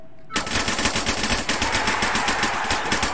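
Rapid automatic gunfire from a multiplayer video game shooting match, loud and sustained with a fast, steady rhythm after a brief quiet start, with no talk over it.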